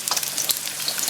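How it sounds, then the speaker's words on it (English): A garlic clove gently browning in oil makes a brief, even sizzle with fine crackling throughout, close and moderately loud. "We're going to let this garlic clove just sort of gently brown in this oil."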